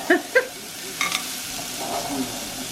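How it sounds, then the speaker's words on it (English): Frozen peas tipped into a pan of sweated-down vegetables, a couple of quick rattling clatters followed by a soft, faint sizzle and stirring. "I'm going to add in some frozen peas."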